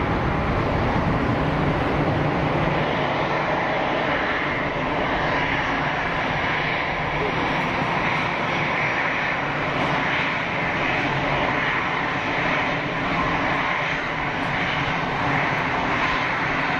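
An airliner on short final approach to Geneva Airport roars steadily overhead, a loud, continuous broadband jet engine rumble holding for over fifteen seconds without talk.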